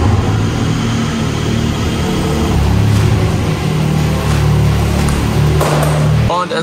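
A Lamborghini Aventador SVJ Roadster rumbles loudly and steadily at low speed while maneuvering out of a parking spot, a continuous deep engine drone with a person speaking over it.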